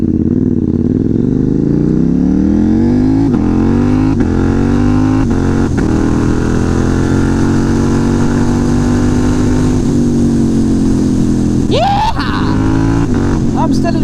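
A KTM Duke 790 motorcycle engine runs loud and close, its steady throbbing idle rising and falling through several revs, with a sharper blip near the end.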